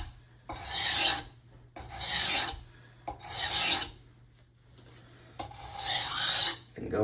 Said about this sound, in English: go back over the knife just once more with the coarse side